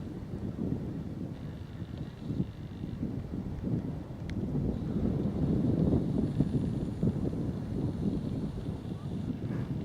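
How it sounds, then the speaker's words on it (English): Wind gusting across a microphone on a countryside walk along a lane beside woods near Cambridge, a steady low rumble that swells midway and stays continuous for the whole stretch, with no talk. "Wind's beginning to pick up now."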